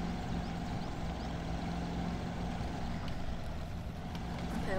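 A 1985 Chevy K5 truck engine drones steadily as it churns through deep swamp mud in the Spintires video game, a constant low rumble with no speech.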